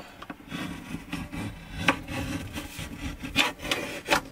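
Someone works at the end of a slightly bowed wooden countertop for a tiny home on wheels, the steady rasping, sawing-like rub of tool on wood running continuously with a few sharper scrapes, close and alone.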